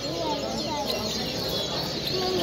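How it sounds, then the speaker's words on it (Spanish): A goldfinch sings at a canary-breeding contest in Dos Hermanas, its thin chirping phrases sitting within a dense, steady backdrop of other birds and hall noise, with a person talking over it. "Ahí podéis ver otro espectacular jilguero."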